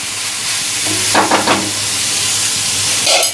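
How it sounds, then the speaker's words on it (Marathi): Onion and tomato sizzle and get stirred in a pan while cooking Malvani-style dry dried fish on a tawa, a steady close frying hiss with a few louder scraping bursts midway and no talk. "इथे कांदा चांगला फ्राय करून झाल्यानंतर टोमॅटो घालते"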